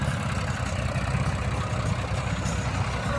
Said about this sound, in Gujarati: ટ્રેક્ટર પણ બહુ હેવી છે